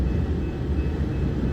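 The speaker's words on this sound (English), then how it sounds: "We had that stack train." A freight stack train rumbles past in Fremont, Nebraska as a steady, loud low roar of rolling wagons heard close by, with no talking.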